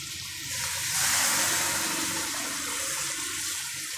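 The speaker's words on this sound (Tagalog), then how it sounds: "At maglalagay tayo ng tubig." Water pours steadily into a cooking pot of chicken tinola already seasoned with salt, fish sauce and soy sauce, a continuous rushing splash that swells after a moment and holds for several seconds.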